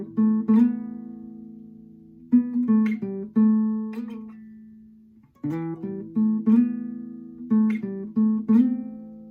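Acoustic guitar plays the opening four sections of the solo from a song, live version. Picked notes and short phrases ring out clearly and alone, with brief pauses between groups.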